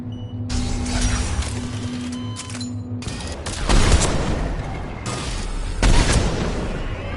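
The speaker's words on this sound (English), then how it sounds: "Another quake!" A quake strikes in Mass Effect 3, sending out heavy booming rumbles in several loud bursts separated by quieter stretches. It sounds close and forceful.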